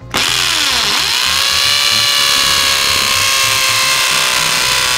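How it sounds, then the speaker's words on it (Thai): A Dongcheng impact drill with its largest bit bores into a prestressed concrete pole, spinning up with a sharp whine that settles into a loud, steady grinding hammer drone lasting about five seconds, with no voices. "เดี๋ยวจะลองเจาะปูนให้ดูแล้วกันนะครับว่าตัวกระแทกเจาะปูนเป็นยังไงนะครับ"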